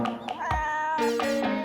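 A cat meowing close by, several short, bright meows in a quick run, loud and clear with no talk.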